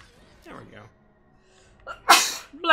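A single sharp sneeze bursts out near the end after a soft intake of breath, loud and close, during gameplay of Dead Rising 4 with quiet background sound.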